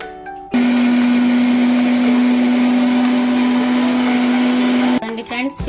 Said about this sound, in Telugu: దీన్ని అయితే మనం మిక్సీ కొట్టుకుందాం